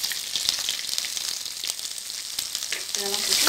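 Garlic, dried red chillies and onion sauteing in a pan for murungai keerai thuvayal give off a loud, steady sizzle, with stirring clatter and a brief louder burst near the end.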